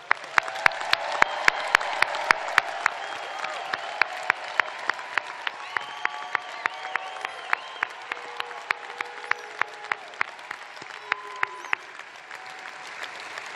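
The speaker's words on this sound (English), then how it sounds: "let's have one last round of applause" An audience at a business school precommencement ceremony gives a sustained round of applause after degree candidates are presented, with sharp individual claps standing out over the continuous clapping and faint background voices.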